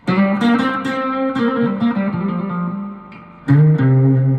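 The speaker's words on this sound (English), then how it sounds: "I do have a little bit of distortion on the amp." A three-string cigar box guitar through a distorted amp plays a twangy riff steadily with a gritty tone, sustained notes repeating with a brief dip before a louder strum near the end.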